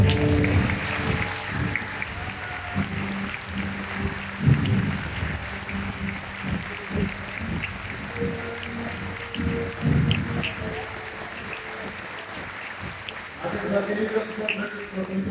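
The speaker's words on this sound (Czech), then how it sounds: "já poprosím velký aplaus pro Mike Denelo!" A Comic-Con Prague crowd applauds Mike Denelo with sustained, loud clapping and some cheering, while a voice speaks over the noise and the applause continues throughout.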